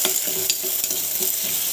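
Shallots, chillies, ginger and curry leaves sautéing in hot oil in a pan, a steady close sizzle with rhythmic scraping stirs roughly every fraction of a second, no voices.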